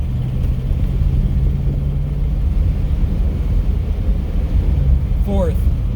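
A Toyota RAV4 engine hums steadily while cruising in fourth gear after accelerating through the gears, a low rumbling drone inside the cabin with a brief rising whine near the end and someone talking over it.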